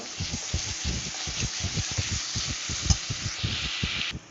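Ginger-garlic paste fries with onions in hot oil for a fish kalia made with a large boal fish, a steady loud sizzle broken by rhythmic scraping stirs throughout, with no talking.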